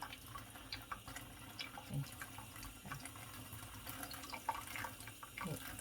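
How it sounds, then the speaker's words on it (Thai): Tap water runs steadily into a sink while mushrooms are washed under it, a fairly faint, continuous splashing rush with small clinks and drips throughout. "นี่ค่ะเปิดน้ำ"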